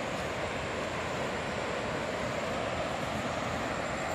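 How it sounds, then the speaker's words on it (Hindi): Ramganga river flowing past a Uttarakhand village, a steady broadband rush and murmur of water that holds evenly throughout with no pauses, fairly close and moderately loud. "कितनी सुंदर यहाँ से बह रही है, कल कल करती हुई आवाज़ें"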